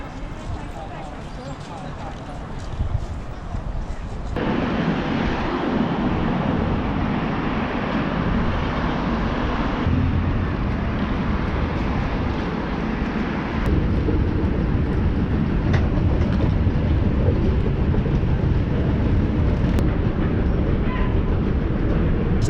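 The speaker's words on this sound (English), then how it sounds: "the trains are still quite busy" A busy metro train in China runs steadily with a continuous loud rumble and rolling hum, people talking faintly throughout, the roar shifting slightly as the ride goes on.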